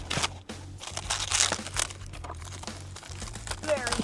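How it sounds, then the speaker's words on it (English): Crinkling and crumpling of plastic wrap and packing material as a canvas picture frame is pulled from its packaging, with bursts of rustling and tearing over a steady low hum, close to the microphone. "Let's get it out, unwrap this baby"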